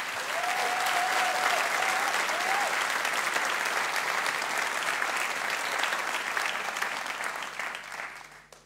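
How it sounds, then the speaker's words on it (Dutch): An audience at a dance show gives a dance couple loud, sustained applause, a dense wash of clapping with cheering that holds steady and then fades toward the end. "Geef ze een groot applaus"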